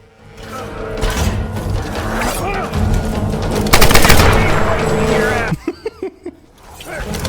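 Gunfire in the 2013 Tomb Raider video game: dense rapid bursts of shots mixed with loud game effects and rumble, ending in a few separate single shots, with a voice talking over parts of it.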